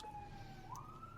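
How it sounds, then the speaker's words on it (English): A faraway emergency siren rises in pitch beneath a constant low rumble of outdoor background noise. "The sirens."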